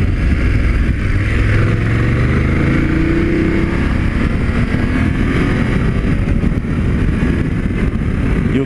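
BMW F 750 GS Premium 40th-anniversary edition motorcycle engine pulling strongly under acceleration, a loud continuous drone with rising tones, heard up close with steady wind roar throughout.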